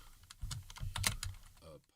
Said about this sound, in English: So what we're going to do is we are going to type in